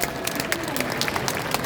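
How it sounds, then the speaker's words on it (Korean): An audience at a book launch event in Buyeo applauds the performing troupe, busy scattered clapping with crowd murmur and some voices mixed in, fairly distant. "여러분 수고해주신 우리 공연단분들께 큰 박수 부탁드리겠습니다"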